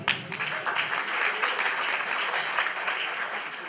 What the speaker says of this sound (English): So your applause to Musa.